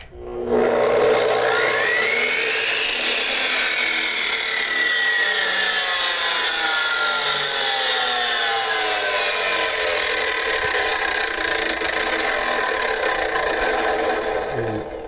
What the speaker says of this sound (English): when you first hit the power button, it kind of slowly ramps up